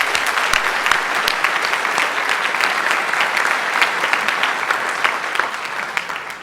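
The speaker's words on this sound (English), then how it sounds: "so I'd love to give her a round of applause if we could" An audience at a high school scholarship awards night applauds a retiring presenter, steady dense clapping that fills the room from start to finish with no one speaking.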